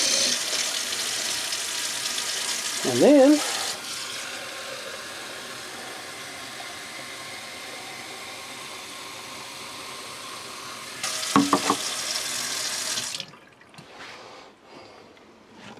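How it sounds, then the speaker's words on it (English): Hot water running from a tap in an RV, tied to a Truma AquaGo Comfort water heater being flushed and decalcified; a steady hiss of flowing water runs for about ten seconds, bracketed by brief sputtering bursts and a short spoken word. "Okay, so there's the hot water."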